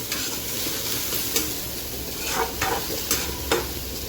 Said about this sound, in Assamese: কালি জিৰা দিলোঁ, ধুনীয়াকৈ ভালকৈ ভাজি লওঁ